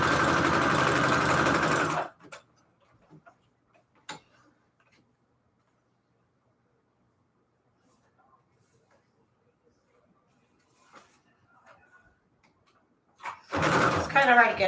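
A sewing machine stitches loudly in short bursts at the start and the end, with a rattly noise coming from the bobbin area. Faint ticks and taps fill the quiet gap between the bursts.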